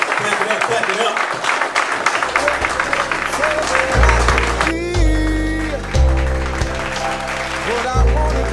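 Audience applause at an African-identity community gathering as someone speaker is welcomed to the stage, a steady wash of clapping and crowd noise under loud music with heavy bass.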